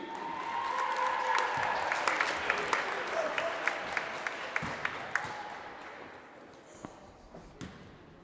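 A crowd applauds at a high school basketball senior night for a senior cheerleader, sustained clapping in a gym that slowly fades, with scattered bounces and thumps mixed in.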